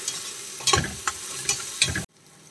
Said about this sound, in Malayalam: ഇനി അതിൻ്റെ ഒരു പച്ചമണം മാറുന്നത് വരെ ഒന്ന് വഴറ്റി കൊടുക്കാം